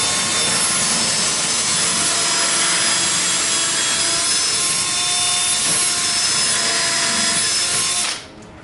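A power drill bores a screw hole into wood for a frameless sink base cabinet, a loud, close, continuous whirring grind lasting about eight seconds before stopping abruptly.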